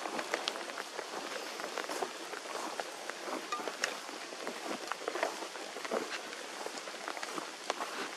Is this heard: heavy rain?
yes